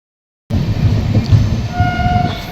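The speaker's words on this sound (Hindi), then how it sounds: "इसके अंदर से अब हम लोगों की ट्रेन निकल करके ब्लॉक हट ए केबिन की दिशा में बढ़ रही है" The 12180 Agra Fort–Lucknow Intercity rolls along the track, its heavy low rumble and rhythmic wheel clatter starting abruptly and holding steady, with a thin whine above; no one speaks.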